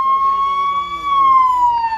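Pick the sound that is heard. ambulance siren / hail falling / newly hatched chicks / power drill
ambulance siren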